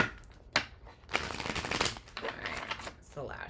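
Tarot cards being shuffled by hand at close range, a run of quick riffling flutters and soft snaps, with a voice briefly speaking near the end.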